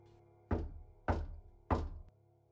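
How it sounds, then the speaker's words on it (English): Three evenly spaced, heavy knocks on a door in a quiet house, each a dull thunk with a short decaying tail, fairly close and alone. "like an echo of the knocking sound"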